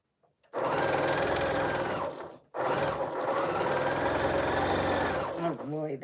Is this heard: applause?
no